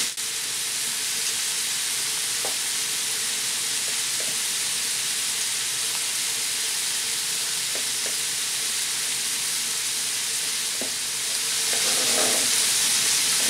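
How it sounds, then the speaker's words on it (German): Leeks and other vegetables sizzle and crackle steadily in a hot pan, a dense close hiss with occasional stirring clinks, swelling slightly near the end. "Solange mein Gemüse jetzt hier anbrät"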